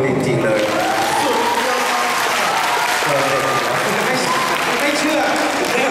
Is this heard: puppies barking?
no